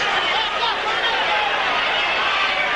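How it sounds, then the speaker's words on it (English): A boxing arena crowd roars in a sustained, dense wash of cheering during the 10th round of Larry Holmes vs Earnie Shavers II, loud and continuous throughout. "This crowd responding to the courage of Earnie Shavers"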